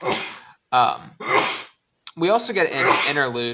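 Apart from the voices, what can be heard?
sneeze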